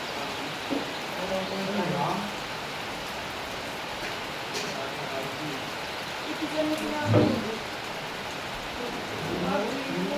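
Steady rain hisses in the background as people talk nearby, the patter even and broad throughout.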